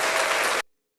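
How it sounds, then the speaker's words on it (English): A brief burst of hand clapping, a dense round of applause lasting just over half a second and then cutting off abruptly into silence. "I gave a round of applause, and I gave spirit fingers."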